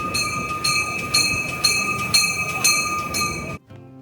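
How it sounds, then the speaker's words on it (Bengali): A MARC commuter train pulls into Baltimore Penn Station with rhythmic, repeated clanking pulses and a steady high tone, loud and close, ending abruptly in quiet. "চলে এসেছে আমাদের মার্ক ট্রেন"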